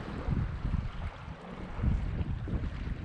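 Wind gusting outdoors on a fishing trip, buffeting the microphone with a loud, rough low rumble that swells and fades over a few seconds, with no voices.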